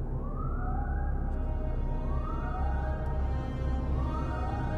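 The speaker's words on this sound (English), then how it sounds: "That siren that you can hear? That's the submarine." A rising, wailing submarine contact siren in the naval video game War on the Sea repeats in slow sweeps, about three cycles, steady and loud over a low rumbling background.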